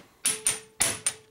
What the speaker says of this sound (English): A hammer. So it gets loud.